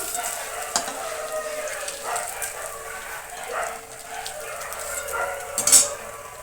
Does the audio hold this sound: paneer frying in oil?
yes